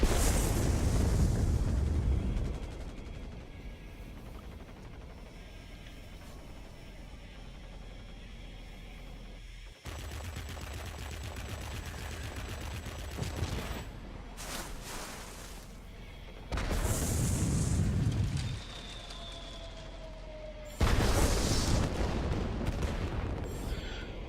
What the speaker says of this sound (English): Drop a bomb on this section here.